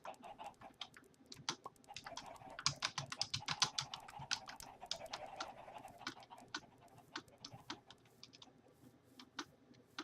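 Someone types unevenly on a computer keyboard, with quick clusters of sharp close key clicks separated by short pauses, faint and with no talking.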